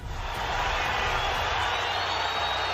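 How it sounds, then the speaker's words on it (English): Boxing crowd at a bout erupting after a knockdown, a dense, loud, sustained roar of cheering that holds steady throughout. "The crowd erupted"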